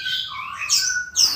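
An oriental magpie-robin (kacer) sings inside a basket, giving clear, close whistled phrases with sliding notes and a bright chirped burst near the end.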